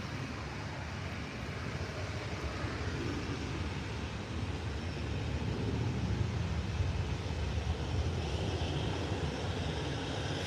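A Jet2 airliner taking off at Manchester Airport makes a steady, broad engine roar that fills the whole stretch and swells slightly louder toward the end, heard from a distance with no talking.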